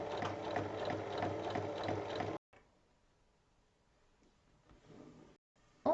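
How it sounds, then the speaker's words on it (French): A sewing machine stitches fabric strips along one edge in a fast, even mechanical chatter for about two seconds, then stops, leaving quiet handling rustles and a brief clunk near the end. "il faut piquer sur toute la longueur d'un seul côté"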